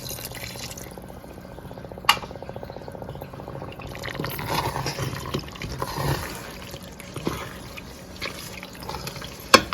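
Reserved salted pasta water is poured from a cup into a pan, a soft, continuous trickle and splash with a few sharp clinks of the vessel, fairly faint and close, with no talk.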